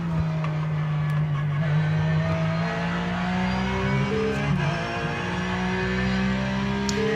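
A Porsche 911 race car in the iRacing sim, engine droning steadily with shifting tonal pitch as it climbs and drops through revs, continuous and fairly quiet with no talk.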